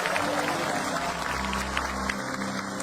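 A small crowd claps for a visiting guest at a family home, the applause steady and fairly loud over a low hum, with scattered voices mixed in.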